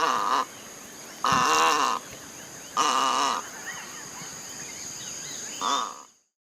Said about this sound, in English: egret